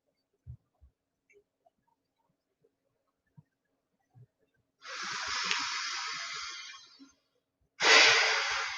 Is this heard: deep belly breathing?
yes